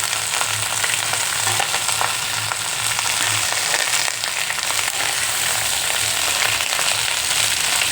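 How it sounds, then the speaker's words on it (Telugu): Sliced ivy gourd (tindora) fries in oil in a pan with a steady, even sizzle that runs loud and close, with no voices over it. "బాగా వేగించాలి."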